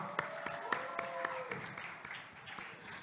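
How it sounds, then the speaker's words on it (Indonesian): Audience applause at a youth leaders' talk show forum, faint and a little distant, with a few sharper claps standing out over a soft wash and a sustained tone in the background. "saya sampaikan terima kasih dan tepuk tangan untuk kita semua"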